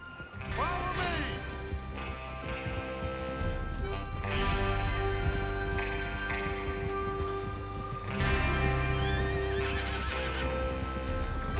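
Horses whinny and snort repeatedly over a steady clip-clop of hooves, with a low background hum throughout, in the video game Red Dead Redemption 2.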